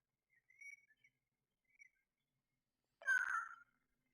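A few brief chirps early on, then a louder burst of bird calling near the end, with quiet gaps between.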